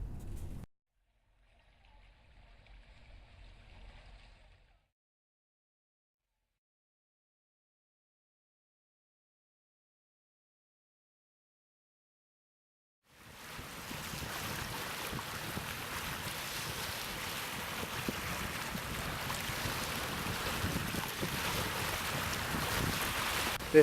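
Water and waves in a small inlet on First Nation (Tsleil-Waututh) territory, heard after a long silence as a steady wash of surf and wind noise buffeting the microphone, loud and continuous for the last ten seconds.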